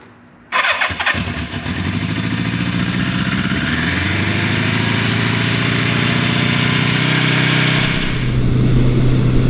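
A 1982 Suzuki GS750E motorcycle, fitted with new brake lines, starts up and then runs steadily at close range with a loud, continuous engine drone, and the revs rise toward the end.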